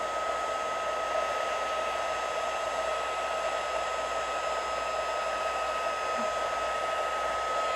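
Heat embossing tool blowing hot air over stamped embossing powder, a steady loud hair-dryer-like whoosh with a faint high whine running unbroken from start to finish, no voices.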